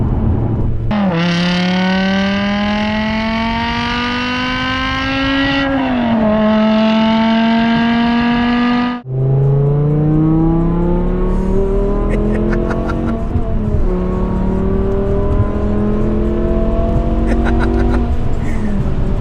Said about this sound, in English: that engine noise is just nuts